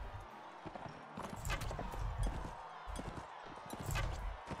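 Horses gallop in Mount and Blade Warband, their hooves drumming in quick irregular clusters of thuds under busy battle noise, fairly close and moderately loud.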